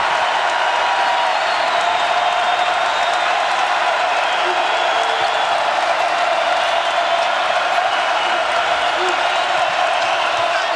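A college basketball arena crowd at a TCU vs Kansas game makes a loud, steady, continuous roar of cheering and noise throughout, with no distinct breaks.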